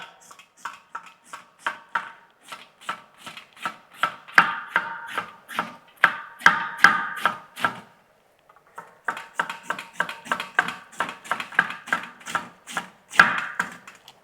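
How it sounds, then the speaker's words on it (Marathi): A knife chops cabbage into thin strips in a fast, even run of crisp close taps on a board. The chopping pauses briefly partway through, then resumes at the same pace, with no voices. "आपल्याला कोबी चिरून घ्यायचा आहे"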